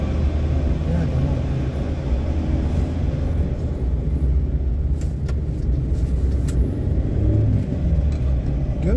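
A diesel Karimun Kotak climbs a winding uphill road with a steady low engine rumble and road noise throughout, heard from inside the car while someone talks over it.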